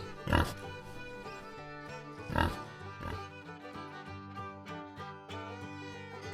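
A pig grunts and oinks a couple of times over a steady layer of background music, the short snorts standing out near the start and again a couple of seconds later.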